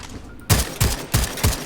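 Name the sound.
carbine gunfire in the video game Second Extinction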